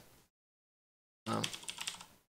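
Rapid keystrokes clatter on a computer keyboard in a quick burst of about a second after a long silence, close and clear, with a faint trace of sound at the very start.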